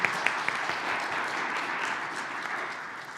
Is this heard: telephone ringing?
no